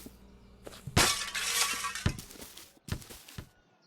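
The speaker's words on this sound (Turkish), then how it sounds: "Bir yerde cam kırmamız gerek." Window glass shatters in the video game Hello Neighbor: a loud, bright crash at about one second, followed by a sustained spray of breaking shards and then a few scattered clinks and crashes as the pieces fall.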